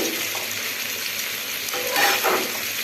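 Fried flour dumpling pieces for a chilli dish being sautéed in a pan, a dense steady sizzle with a short louder burst of stirring near the end, close and loud, no voices.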